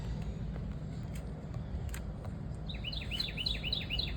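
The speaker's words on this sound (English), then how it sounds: "You hear the birds chirping." Small birds chirp in a quick series of high calls near the end, faint and outdoors beside a little free library in Little Rock, over low traffic rumble and distant scattered tweets.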